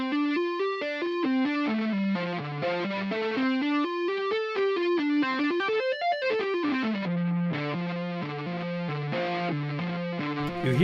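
Electric guitar played with two-handed tapping through a neck pickup with a boomy tone, fast continuous legato note runs with rising and falling lines, slightly distorted, no talking.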